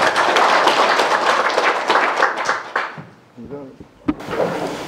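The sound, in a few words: audience applause welcoming a lecturer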